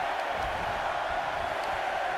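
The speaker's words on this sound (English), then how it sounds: "Listen to this crowd" A large wrestling event crowd roars in a steady, continuous wash of cheering, dense and uniform throughout with no single voice standing out.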